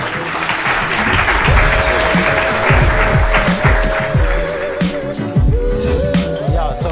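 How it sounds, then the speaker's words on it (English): Audience applause at a Startup Grind Cape Town event, loud and sustained crowd clapping filling the whole stretch, with a steady musical tone playing underneath. "Another big round of applause."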